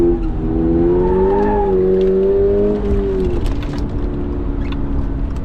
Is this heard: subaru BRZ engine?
yes